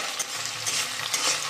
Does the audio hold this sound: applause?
no